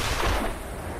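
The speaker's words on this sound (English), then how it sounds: "I'm going to have to shoot it again" A rifle shot fired at a boar in a hunting video game, heard as a single loud, broad blast early on, decaying into a dull rumbling tail across about a second.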